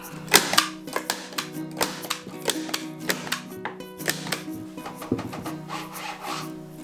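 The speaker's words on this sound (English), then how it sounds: "then I'll staple in the middle here" A staple gun fires repeatedly into fabric pulled tight over a wooden beehive quilt box, giving a series of close, sharp snaps and clicks with some rubbing and handling noise between them.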